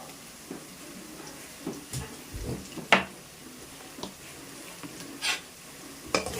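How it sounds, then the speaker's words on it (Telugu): Turmeric frying in a pan for crab curry gives a soft, low sizzle with scattered spoon scrapes and clinks against the pan, fairly quiet overall. "కొంచెం ఫ్రై చేద్దాం ఇప్పుడైతే మనం"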